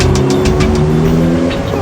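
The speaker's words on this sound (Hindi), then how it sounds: "अरे ये गाड़ी तो और भी नजदीक आते जा रही है, और बिना ड्राइवर के गाड़ी कैसे चल रही है?" A car with no driver closes in at close range, a loud, steady engine roar with a tire-squeal whine, rising in intensity over a couple of seconds.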